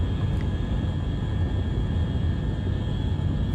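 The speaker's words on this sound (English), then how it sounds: "Let's go full throttle on the main. Gosh, just rolling down the runway is crazy." The XR5 Vanguard spacecraft roars down the runway at full throttle in the Orbiter 2010 simulator. A loud, steady, broadband engine rumble holds with a faint high whine and no speech.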